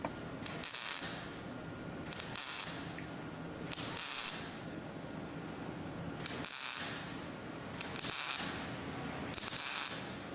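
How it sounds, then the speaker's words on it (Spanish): Electric arc welding in a workshop class, with a steady crackling, sizzling hiss broken into several bursts separated by short pauses, moderately faint throughout. "vamos viendo cómo va soldando el hombre."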